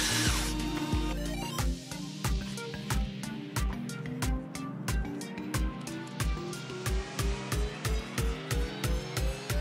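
An electric drill whirs in short, regular pulsed bursts as an engine cylinder block is honed using water, each burst starting and stopping in a steady rhythm.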